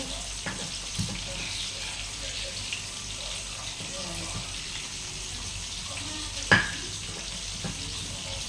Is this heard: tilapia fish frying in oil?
yes